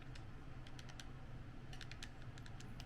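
Clacky Super Nintendo controller buttons pressed in quick irregular clusters, crisp and close against faint background hiss.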